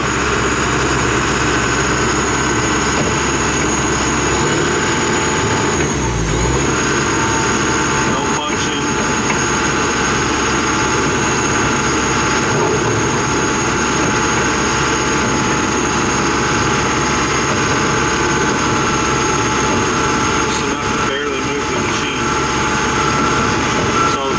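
The diesel engine of a John Deere 310SL backhoe runs steadily, a loud, constant low drone that holds without a break for the whole stretch.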